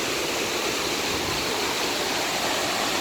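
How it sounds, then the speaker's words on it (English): The Wachirapan Waterfall at Doi Inthanon, Thailand, roars as a steady, loud, close hiss of falling water and spray, constant and unbroken, with no talk over it. "I got a huge waterfall right behind me."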